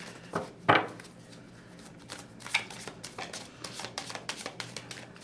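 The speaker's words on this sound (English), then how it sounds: "I'm going to shuffle again because this one came out." A deck of tarot cards being shuffled close up, with a few sharp riffling bursts followed by quicker, softer flutters and taps.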